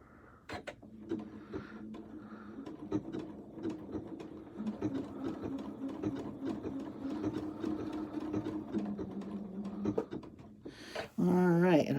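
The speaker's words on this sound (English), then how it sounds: "I'm going to hit my reverse button to tie off my stitches right there" A domestic sewing machine stitches woven fabric, a steady close rhythmic whir and clatter that ends with a quick reverse burst to tie off the stitches. Someone talks over it briefly at the end.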